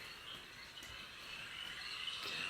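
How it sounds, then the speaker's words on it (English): A chorus of male frogs calls in a steady, high, chirring drone that runs unbroken and fairly faint throughout. "Frogs call to let other frogs know they are there."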